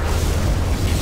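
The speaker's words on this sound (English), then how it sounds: "Particle cannon activated." Particle cannon strike from Command & Conquer Generals, a deep continuous low rumbling boom with a sustained explosive roar, loud and steady with no talk.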